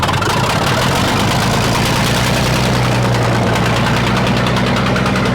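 A sawmill's engine, fitted with a magneto and a low-oil-pressure shutoff, runs at a loud, steady idle close by, with a deep continuous rumble and rapid knocking pulses throughout.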